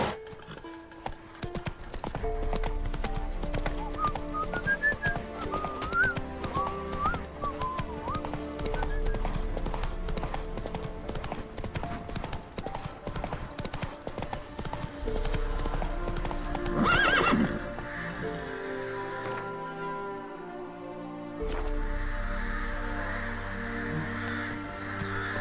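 Roach, the horse in The Witcher 3, gallops with a rapid, steady clip-clop of hooves and lets out a clear whinny partway through, with game music and ambient sound playing beneath.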